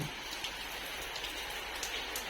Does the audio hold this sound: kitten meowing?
no